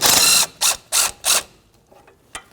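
A ratchet wrench with a 13mm socket backing out bracket bolts on a 2007-2017 Jeep Patriot, giving one long clicking burst and then three short rhythmic ratchet bursts up close, followed by faint tool handling, without speech.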